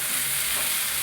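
Food sizzling and frying steadily in a pan at home, a continuous hissing crackle with no one talking over it.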